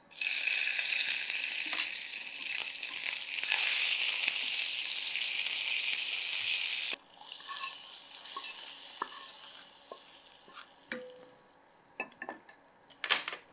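Mustard seeds, asafoetida and curry leaves tempering in hot oil for tomato rasam give a loud, dense sizzle that cuts off abruptly halfway, followed by quieter stirring, clinks of utensils and pan knocks.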